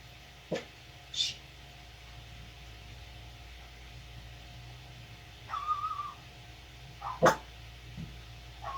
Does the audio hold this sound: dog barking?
yes